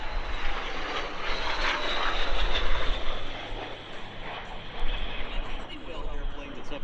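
A formation of L-39 jets passes overhead at an airshow, a loud, broad engine roar that swells and eases over several seconds, with voices of onlookers mixed in.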